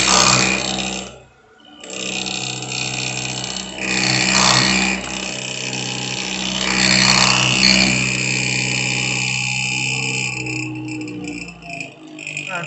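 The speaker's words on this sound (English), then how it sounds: "you're machining it back and forth across the part" A milling cutter at around 830 RPM machines a metal bracket, feeding back and forth across the part with a steady droning whine and grinding that swells and eases over time.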